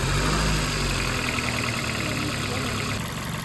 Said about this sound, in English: You see that here that the engine bogs down a little bit.